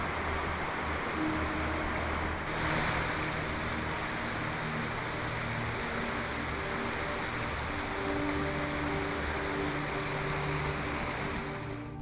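The River Dochart flowing below the Dochart Viaduct in Killin, Scotland, a steady broadband rush of moving water heard from above, continuous and unbroken throughout with no talk.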